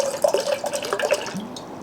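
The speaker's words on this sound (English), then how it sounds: "Got a cup here. I'm going to pour some in." Water pouring from a bottle into a cup, a short burst of splashing and trickling droplets that fades out after about a second, close and clear with no talk.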